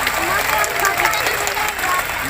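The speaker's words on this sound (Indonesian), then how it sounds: "coba tepuk tangan untuk semua yang hadir malam ini." An audience at an evening Isra Mi'raj religious gathering in Batam claps together, a continuous even wash of applause throughout, with voices faintly mixed in.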